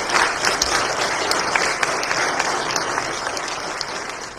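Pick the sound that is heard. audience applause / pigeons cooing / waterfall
audience applause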